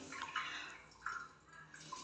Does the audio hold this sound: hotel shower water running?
yes